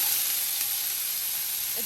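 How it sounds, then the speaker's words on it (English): Plantain cooking in a pot of water on a stovetop, giving a steady close hiss and bubbling sizzle that runs evenly throughout with no talking. "while my plantain is cooking"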